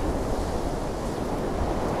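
Sea waves crashing continuously on a wild Crimean beach, a dense, loud roar of surf with wind buffeting the microphone and no voices.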